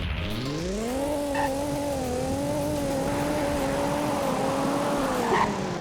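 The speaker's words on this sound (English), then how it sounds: "I haven't actually heard like the full V6 Raptor sounds." Ford V6 Raptor truck engine in a driving video game, a steady sustained drone that climbs in pitch at the start and then holds an even cruising note, with a faint squeal near the end.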